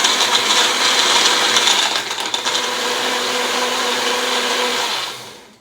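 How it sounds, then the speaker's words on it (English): A blender whirs steadily while blending milk, ice and pumpkin puree, a loud continuous motor roar with a brief grinding dip partway through before it winds down. "we're just going to blend it"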